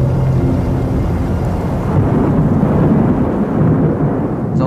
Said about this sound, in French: Vous entendez, on dirait les grands coups de tonnerre.